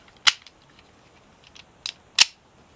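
Kel-Tec P-32 ACP pistol firing green and white box ammunition at the range, two sharp cracks about two seconds apart with fainter clicks between, fairly distant and quiet.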